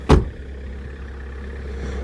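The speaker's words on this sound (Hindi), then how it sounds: "और गाड़ी अपनी स्टार्ट है" A car engine idles while parked at a camp in Sonamarg, Kashmir, a steady low hum after a brief sharp thud at the start.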